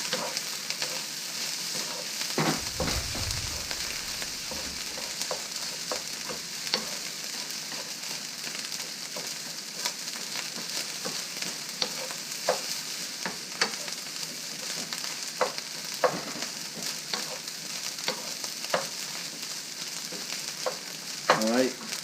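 Rice with Chinese sausage stir-fries in a hot pan, sizzling steadily throughout while a utensil scrapes and clacks at irregular intervals, close by and with no voices.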